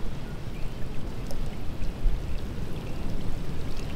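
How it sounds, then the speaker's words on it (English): Rain falling at a Hawaiian campsite, a continuous soft patter and hiss of drops with a few sharper taps, steady and close, with no talking. "is that the rain?"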